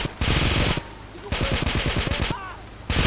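Rapid automatic gunfire in the GTA 3 video game, loud, close bursts of machine-gun fire separated by short pauses, with fast rattling shots repeating through each burst.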